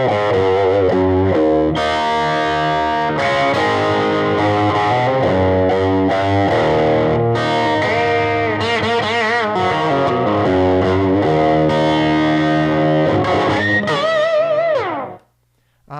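Heavily distorted electric guitar through a Jose pedal into a cranked Supro amp, with loud, dense chords and riffs played continuously before cutting out near the end, with no talking.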